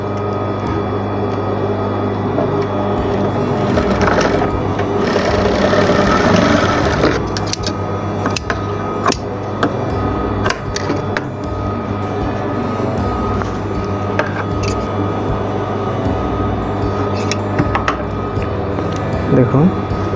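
A sewing machine stitches the folded corner of an apron, making a loud, close, continuous rapid chatter with a steady hum underneath and a brief harsher burst partway through.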